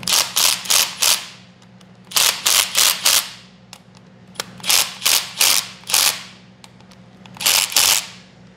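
Ratchet wrench tightening the bolts on a cam plate of a BGE 392 HEMI engine, clicking in rapid bursts of four or five sharp ticks separated by short pauses, close and loud with no talk.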